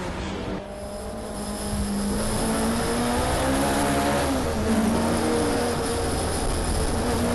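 A Morgan Plus 8 race car at a classic sports and saloons circuit meeting at Knockhill passes close by, its engine note loud and sustained, rising and holding as it sweeps across the finish line.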